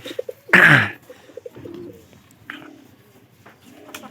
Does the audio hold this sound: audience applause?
no